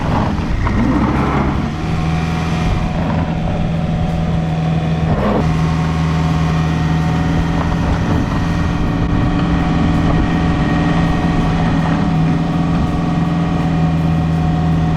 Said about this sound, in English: The engine's revving but there's no go.